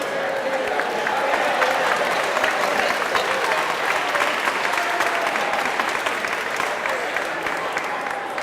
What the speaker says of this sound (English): Give your partner a round of applause.